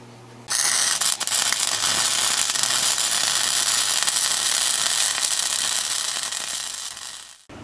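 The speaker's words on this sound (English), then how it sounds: "I'm just going to go ahead and use my 110 or 120 MIGs" A 110/120-volt MIG welder laying a bead on a steel T-post puller, a loud, continuous crackling buzz that starts abruptly, runs steadily for about seven seconds and then cuts off, close by with no talking.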